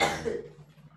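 A single short cough, close and fairly loud, fading quickly into a quiet room.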